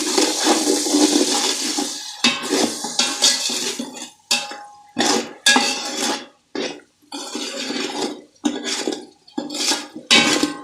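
Beef pulao masala being stirred and roasted in a pot with a little water, with repeated scraping and clinking of a utensil against the pan and watery sizzling in broken bursts, close and fairly loud, no talking.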